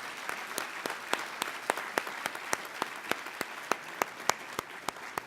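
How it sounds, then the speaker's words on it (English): Steady applause from a conference audience, a dense wash of clapping with individual sharp claps standing out, sustained without pause and no voices. "please join me in giving another round of applause to all of our speakers."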